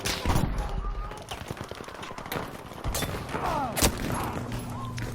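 Single heavy rifle shots from an M1 Garand in Battlefield V, several sharp reports spaced apart over busy battlefield noise and distant firing.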